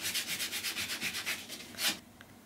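A wooden wash stand with a faux verdigris finish is hand-sanded to expose copper beneath, a rapid rhythmic scratching of about a dozen close strokes that stop after two seconds.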